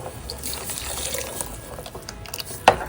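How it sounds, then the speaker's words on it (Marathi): Water is poured into a washed cooking pot for an egg masala curry, a soft continuous trickle and splash close by, ending in a sharp knock of the vessel. "आता भांडा धुवून घेतलेला आणि वरून ऍडिशनल आपल्याला जितके सालन हवं तेवढं आपल्याला पाणी घालायचं"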